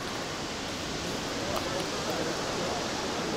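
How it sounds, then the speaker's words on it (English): Wielka Siklawa in Tatra National Park, Poland's largest waterfall, heard as a steady broadband rush of falling water from a short distance, continuous and fairly faint, with no voices. "The noise is increasing, and that's because I'm approaching the Wielka Siklawa, the largest waterfall in Poland."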